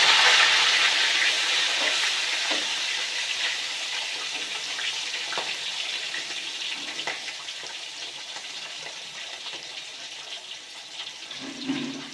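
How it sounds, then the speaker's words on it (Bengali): Continuous hissing sizzle of rohu fish frying in hot oil, loud at first and gradually settling, with occasional faint clicks and no talking. "দেখতে পাচ্ছেন মাছ ভাজার কাজটা চলছে।"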